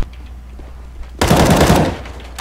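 A loud, close burst of automatic rifle fire in CS:GO, shooting through a wall, lasting about a second before cutting off, with no talk over it.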